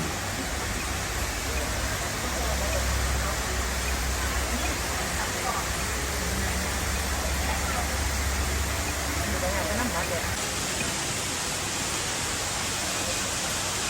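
Rushing water from a waterfall in a Thai garden of cool-climate ornamental flowers styled as the Himmapan forest, a steady broadband roar that holds evenly for the whole stretch.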